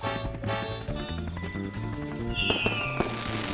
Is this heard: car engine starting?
no